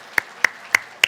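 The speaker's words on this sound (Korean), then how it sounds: "먼저 힘차게 박수해 주시고" A church congregation claps in four loud, evenly spaced beats in a quick steady rhythm, heard alone.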